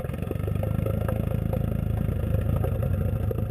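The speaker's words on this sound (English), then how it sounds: "All right, let's start that engine up then." Gasoline engine of an autonomous underwater vehicle runs after starting, a near, loud rattling chug with rapid firing pulses and clattering mechanical ticks, rising slightly in level.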